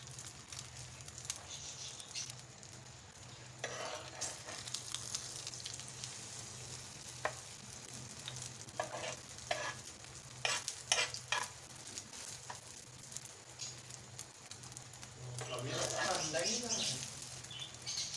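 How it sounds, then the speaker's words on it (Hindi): An egg fries in oil on a hot griddle, a soft, steady sizzle with occasional crackles and scraping, faint and close throughout. "तवे पे हमने ऑयल डाल दिया है, अब हम इस पर अंडा फ्राई करेंगे।"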